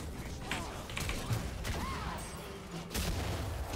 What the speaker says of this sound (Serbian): Svi su petarde, ono jake petarde, brat.